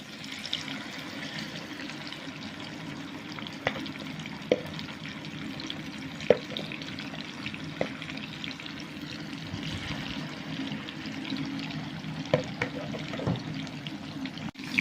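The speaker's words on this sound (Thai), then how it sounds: "ทอดไฟอ่อนนะคะเพื่อน ๆ หมูของเราจะได้สุกทั่วแล้วก็กรอบนะคะ" Pork belly fries over low heat in hot oil for Thai crispy pork, a steady close hiss and bubbling crackle with occasional sharper pops, continuous and alone.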